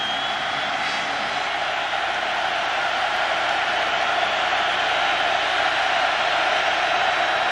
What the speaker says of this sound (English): Crowd now making some noise, really for the first time this half